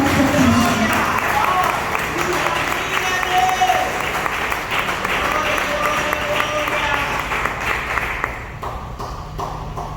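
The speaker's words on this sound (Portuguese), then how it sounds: "Dá uma salva de palmas." Steady applause from a church congregation during a sermon fills the whole clip, dense and continuous, thinning slightly near the end.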